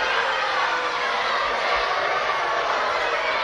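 Wrestling arena crowd at a bout in progress, a dense, loud wash of booing and jeering voices filling the space continuously.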